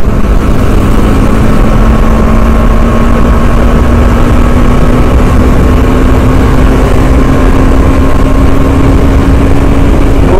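A freshly fueled motorbike engine runs steadily up close, a loud continuous low hum with a faintly rising drone and no talk over it.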